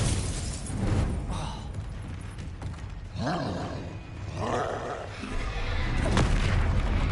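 Booming spell blasts from Bombarda and Confringo in the Hogwarts Legacy video game, several loud bursts and rumbling roars in quick succession over a dense, busy combat soundscape.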